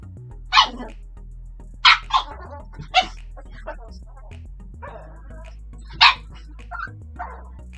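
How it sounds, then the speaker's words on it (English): A dog barks in short, sharp bursts, some yips and a whimper between them, fairly close in a quiet room. "Stop barking. Nobody wants to hear it."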